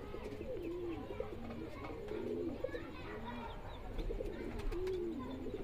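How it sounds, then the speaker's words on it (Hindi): A group of pigeons at a bird sale in Delhi coos softly and repeatedly close by, the low rolling calls overlapping in an unhurried rhythm over faint background noise. "ये सारे कबूतर हैं"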